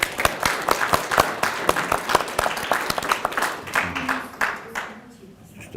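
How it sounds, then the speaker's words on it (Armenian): An indoor audience at a political gathering applauds with dense, rhythmic clapping that stays loud for several seconds, then thins and fades with a voice briefly audible. "բուռն ծափահարություններ"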